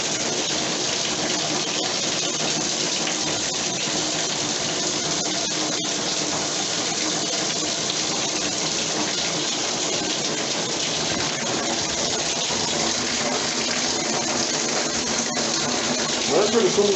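Water sprays hard against a back wall while a hot water heater is replaced, a steady, loud rushing hiss that runs unbroken for the whole stretch, with faint voices talking underneath.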